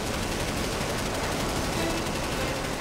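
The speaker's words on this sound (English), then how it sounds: "A short burst of 30mm cannon fire." A short burst of 30mm cannon fire from a fighter jet in a desert air battle against MiGs, heard as a loud, dense, continuous roar of rapid shots with no pause.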